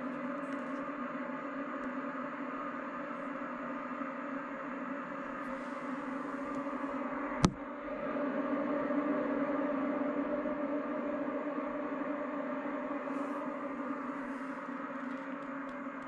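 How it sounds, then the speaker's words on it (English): Steady low electronic hum with layered tones from a Tesla Model 3 pedestrian warning system, continuous and fairly quiet, interrupted by one sharp click midway. "that's the sound of the new safety technology that's built into the Model 3."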